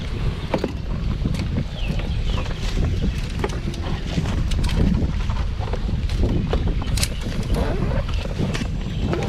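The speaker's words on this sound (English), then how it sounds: "wind is not my favorite" Wind blowing outdoors while fishing: a loud, steady rumbling gust buffets the microphone, with scattered knocks and clatter of gear mixed in.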